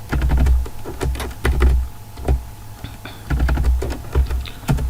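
Python code being typed on a computer keyboard, rapid clusters of close, crisp keystrokes with short pauses between bursts and no voices.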